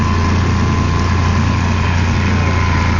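A boat powered by an old tuned Volvo engine, running on the Danube Delta: a loud, steady droning hum with a constant low-pitched pulse and wind-like noise throughout, no talk.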